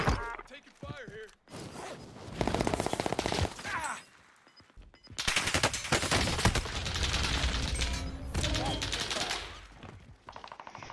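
Automatic and rapid gunfire in Call of Duty Warzone on Fortune's Keep, loud bursts and sustained volleys with short gaps, player voices heard in between.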